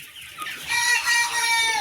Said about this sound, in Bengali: ভিডিওতে যে মুরগিগুলো দেখতেছেন এগুলো হচ্ছে দুই মাসের অরিজিনাল মিশরীয় ফার্ম মুরগি